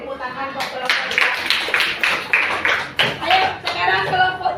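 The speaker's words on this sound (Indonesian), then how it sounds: "Tepuk tangan buat kelompok 3." Students in a classroom give a group a round of rhythmic applause: bursts of clapping in a quick, even beat, fairly close, with voices mixed in.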